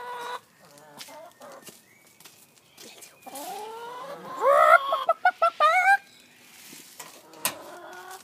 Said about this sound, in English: Let's go catch some chickens instead.